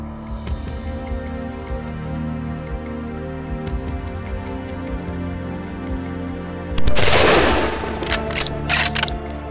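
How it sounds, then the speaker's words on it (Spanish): A single hunting rifle shot fired at a wild boar during a night hunt, a sudden loud crack with a rolling decay after several seconds of quiet outdoor ambience. "Sin más dilación, Israel dispara."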